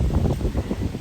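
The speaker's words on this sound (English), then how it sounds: "it's getting quite windy out here." Wind gusts buffet the microphone outdoors in a shade garden, a steady low rumbling roar with rustling that swells and dips throughout, loud and close with no voices.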